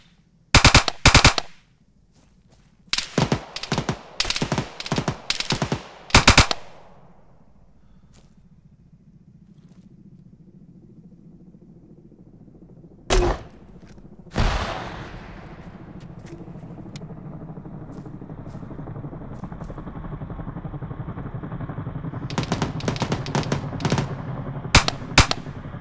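Automatic gunfire in the video game Arma 3, during a Liberation of Chernarus mission: several loud, rapid bursts with rumbling tails and a long hiss in between, then another cluster of shots near the end, with no talking.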